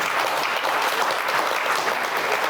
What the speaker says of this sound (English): I think that deserves a round of applause in itself